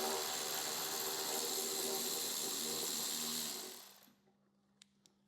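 A Milwaukee battery ratchet spins loudly and continuously for about four seconds while loosening a gas tank bolt on a 2015-2021 Harley CVO Road Glide, then cuts off, leaving a couple of faint clicks.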